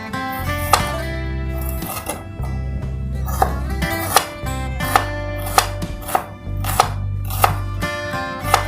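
A knife chops shallots on a cutting board for a spicy fried fish-roe dish: a quick, fairly loud run of sharp, close knocks in an uneven rhythm, over a steady background hum.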